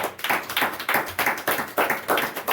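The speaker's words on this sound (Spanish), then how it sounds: "Denle un aplauso al Señor Jesús." A church congregation claps in quick, rhythmic bursts, steady and fairly close, with no voices over it.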